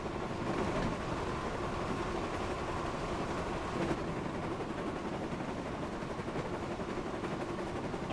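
Steam engine James from the Thomas & Friends: Wonders of Sodor video game rumbles along in a continuous, steady train noise, with no distinct whistle and no talking.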